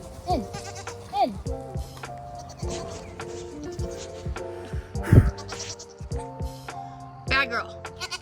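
Goat bleating on a farm homestead, several loud wavering bleats spread across the stretch, mixed with someone talking and other farm noise.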